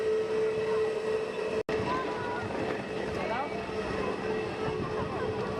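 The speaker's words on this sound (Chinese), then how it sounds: "现在这架飞机呢，正在滑行至外面的跑道。" An airliner taxis toward the runway at Yulin airport, where a large crowd watches from a hillside; its steady broadband engine roar and rushing wind continue throughout, broken by one brief dropout, with faint voices underneath.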